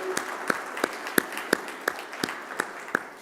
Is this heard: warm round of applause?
yes